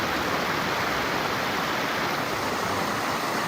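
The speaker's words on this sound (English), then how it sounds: "Waterfall all the way back there." Steady, broadband rushing of a waterfall on a mountain trail near Mt Hood fills the whole stretch without pause, a constant roar with no voices.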